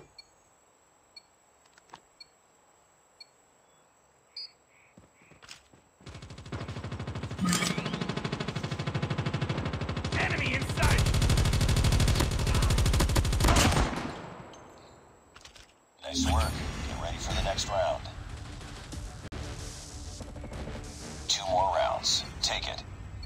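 Gunfire in the mobile shooter game Call of Duty Mobile: a few faint ticks, then long sustained bursts of automatic fire, a short pause, and more rattling shots with interface beeps.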